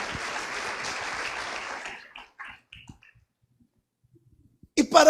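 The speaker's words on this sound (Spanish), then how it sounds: "Denle un aplauso al Señor." A church congregation bursts into dense, loud applause that fills the first two seconds, then fades into near silence with a few scattered claps before a short, sharp burst returns at the very end.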